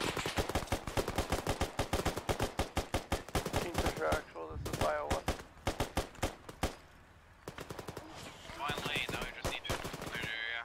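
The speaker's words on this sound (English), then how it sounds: "More SPG fire coming from the west." Rapid, loud bursts of self-propelled gun and automatic weapon fire in an Arma 3 jungle island amphibious assault, dense repeated cracks with short pauses and occasional radio-style chatter mixed in.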